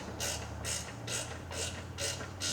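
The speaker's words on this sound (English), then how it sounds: "So we can get our sockets with a bunch of extensions and our ratchet" A hand ratchet on a socket with extensions works to loosen bolts on a 1993 Mustang GT engine, clicking through about six regular, evenly spaced strokes. Each stroke is close and crisp over a faint low hum.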